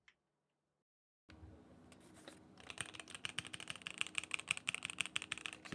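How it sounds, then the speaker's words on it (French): Lubricated mechanical keyboard switches are typed on up close, producing soft, creamy clacks that start after a moment of silence and build into a quick, steady rhythm. "Ce petit bruit délicieux, c'est évidemment un switch, un petit switch, mécanique, creamy, lubrifié"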